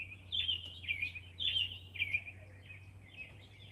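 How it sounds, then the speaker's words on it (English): Small birds chirp outdoors in the morning, with repeated high, short tweets coming in quick phrases over a low, steady background hum. "you can come here and listen to the birds"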